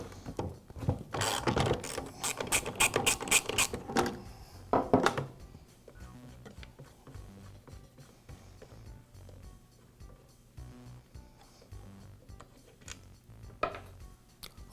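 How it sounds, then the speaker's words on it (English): Wrench work loosening the blade bolt on a Makita miter saw, with the blade locked by the lockout lever: a dense run of close ratcheting metal clicks in the first five seconds, then softer scattered taps and handling noises. "I'll put the wrench on the blade bolt and press the saw's lockout lever to lock the blade in place. Then I can remove the blade bolt."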